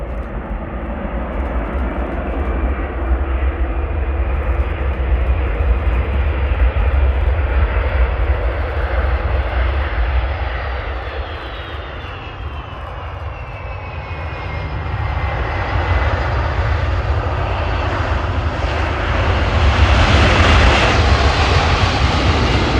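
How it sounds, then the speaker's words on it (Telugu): A US Air Force C-17A Globemaster heavy transport plane makes a loud, sustained jet roar with a rising whine while landing, dipping briefly midway and then swelling louder toward the end. "అమెరికా వైమానిక దళానికి చెందిన భారీ వ్యూహాత్మక రవాణా విమానం C-17A గ్లోబ్ మాస్టర్ నేరుగా రష్యా రాజధాని మాస్కోలోని నుకోవో అంతర్జాతీయ విమానాశ్రయంలో ల్యాండ్ అయిన"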